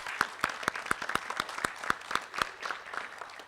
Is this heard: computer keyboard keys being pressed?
no